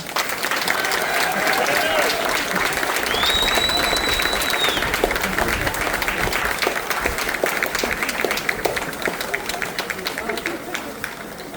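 Sustained applause rises from a crowd of union laborers in orange shirts, a dense steady wash of clapping with cheering voices mixed in, holding loud throughout.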